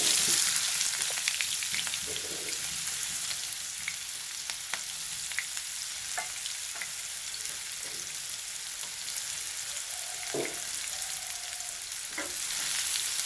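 Green chillies and onion hit hot oil in a pan for an aloo matar curry, giving a steady, loud sizzle with faint stirring clinks and no talking.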